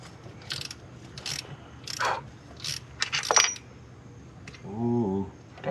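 Loosening an oil catch can on a 7.0L SRT8 car engine gives a few scattered metallic clicks and ratchet-like rattles, close and fairly quiet, with a short tonal scrape near the end.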